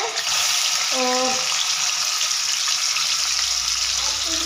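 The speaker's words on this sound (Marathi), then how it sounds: "माझं कांद्याचं तेल ऑलरेडी गरम आहे त्याच्यामुळं त्याच्यातच सोडणार आहे मी" Paneer frying in hot onion-flavoured oil, a steady bright hissing sizzle close up and continuous, with a short tonal clink partway through.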